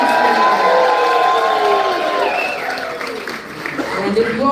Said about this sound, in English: we encourage cheering here at the Great Alaskan Lumberjack Show